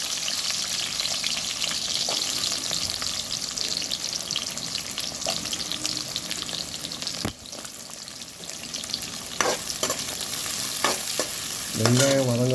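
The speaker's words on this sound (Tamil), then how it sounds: "பொடி வெங்காயம் கட் பண்ணி வச்சுருக்கு. தக்காளி ஒரு அரை தக்காளி பொடி வெங்காயம் சேர்த்துருக்காங்க." Chopped onion and half a tomato sautéing in a pan with mustard seeds and cumin, a steady close sizzle with intermittent spatula scrapes and stirring clatter, louder bursts toward the end, no voices.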